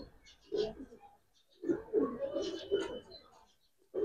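A giribaz pigeon of the Palla liner coloring line coos in short, soft, throaty bursts with pauses between them, close and clear in a quiet space.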